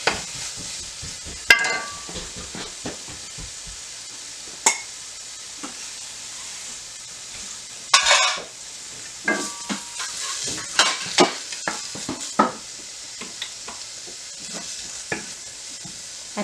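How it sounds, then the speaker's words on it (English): Diced pork fries in a little olive oil over high heat with a soft, constant sizzle, broken by frequent sharp scrapes and clacks of a utensil stirring the pan, loud and close. "Now I'm gonna add the diced"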